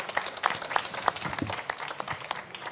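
An audience applauds an organic farmer as he joins the stage at an agricultural show: dense, steady clapping from a crowd, fairly close and lively, without speech over it.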